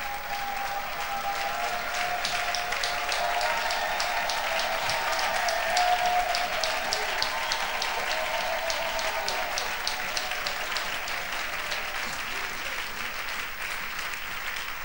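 A standing church congregation applauding in acclaim of the Lord: sustained, steady clapping from a large crowd, with a voice talking faintly underneath.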